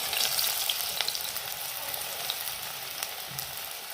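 Five sliced shallots frying in hot coconut oil, a dense close sizzle that starts loud and settles into a steady spattering crackle with occasional pops.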